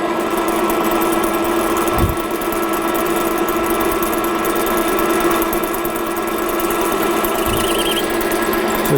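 A metal lathe runs in a fitting and turning workshop, a steady mechanical hum with a constant whine that holds loud and unbroken throughout.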